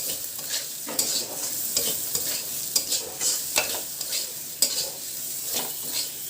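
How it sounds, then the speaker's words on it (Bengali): Moong dal fries with whole spices in a pan for khichuri, a continuous sizzle broken by rhythmic scraping stirs of a spoon against the metal, close and clear. "সমগ্র মশলার সাথে ডালটা একটু ভাজা ভাজা হবে।"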